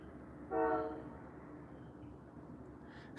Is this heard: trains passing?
yes